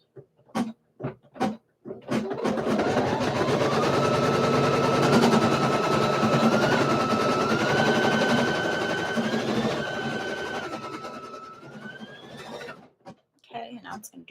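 An embroidery machine stitches steadily to tack down fabric, a continuous mechanical hum with a rising whine that runs for about ten seconds, bracketed by short knocks before and after.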